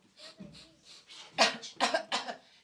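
A performer in a children's theatre show imitates coughing, producing a quick run of about six coughs. They start soft and grow into louder, harsher bursts close to the microphone.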